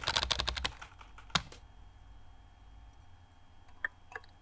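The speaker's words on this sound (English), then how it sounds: "Oh look, I'm typing through my tears." Keyboard typing in the video game Emily is Away, a quick burst of crisp key clicks, then scattered single taps, close and clear with no voices.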